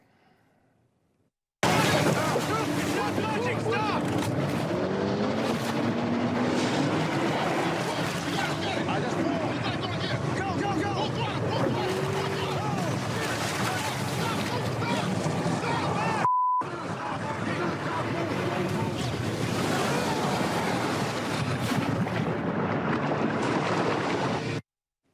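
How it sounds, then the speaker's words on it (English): A storm strikes a small center console boat at sea in a movie scene: a dense, steady roar of wind and churning water with sudden surges. Voices speak and shout over it, and a short gap briefly cuts the sound partway through. "This is when the storm first hits."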